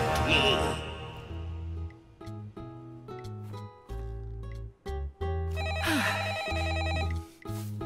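A cartoon telephone rings loudly in repeated tonal bursts with short pauses between them, in a French animated setting, alone without talk.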